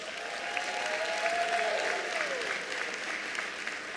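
An indoor audience of over a thousand at a ministerial results announcement claps in sustained, even applause, dense and steady for several seconds with no speech.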